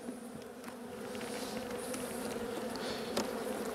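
Asian hornets buzz continuously around a beehive, a steady droning hum of many wings, moderately close and without talk.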